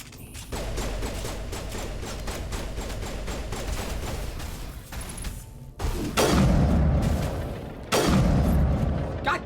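Gunfire and booming blasts in the sci-fi shooter video game Mass Effect, rapid crackling shots followed by louder heavy bursts, with a voice speaking briefly over the combat.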